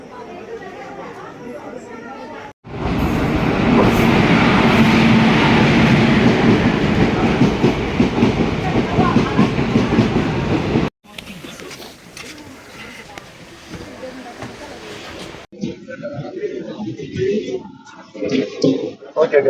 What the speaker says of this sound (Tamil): உங்களை ரயில்வே ஸ்டேஷனில் சந்திக்கிறேன்